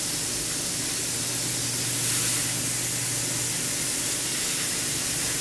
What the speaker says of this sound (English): I'm going to go ahead and let this sear and close up the meat on that one side